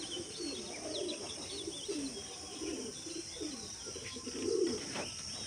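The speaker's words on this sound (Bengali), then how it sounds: "একদম একজোটে পায়রা উঠছে সত্যি খুব সুন্দর লাগে দেখুন" Pigeons coo softly and repeatedly outdoors as a small flock of young birds circles overhead, with faint chirps and a steady background hiss, low and fairly distant, no talking.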